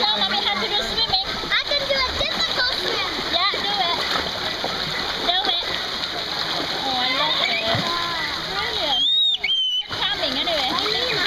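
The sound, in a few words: water splashing from someone practicing swimming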